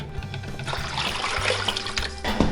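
A quart of water pours into a pan of brine for smoking goose and duck, a close, continuous splashing and trickling for a couple of seconds.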